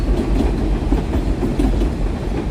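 A New York subway train rumbles steadily past near the Williamsburg Bridge, with a loud, continuous low roar and wheel clatter throughout and no talk.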